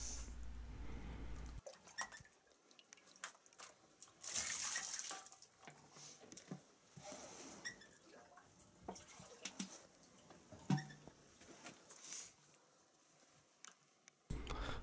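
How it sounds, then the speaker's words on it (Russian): Water is scooped with a ladle from a clean forest spring: quiet splashes and trickles, intermittent and close, with small clinks and a couple of brighter splashes over a hushed outdoor background. "Наливать воду из черпака не очень удобно"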